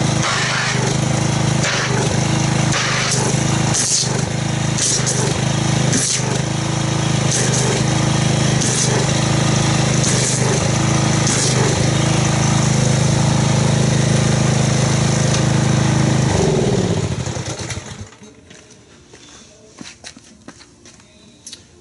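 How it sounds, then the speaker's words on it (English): A pressure washer runs loud and steady up close while making car wash foam, its motor droning for most of the stretch before shutting off, leaving quiet with a few faint knocks. "Let's get the pressure washer and see what kind of foam we get."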